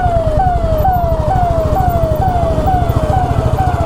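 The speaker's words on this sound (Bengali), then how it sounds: "অনেকেই সাইড দিয়ে দিল অ্যাম্বুলেন্সটা যাওয়ার জন্য" An ambulance siren wails in a steady, rapidly repeating rising sweep, loud and close, over the low rumble of engines in busy road traffic.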